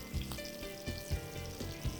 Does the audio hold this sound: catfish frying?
yes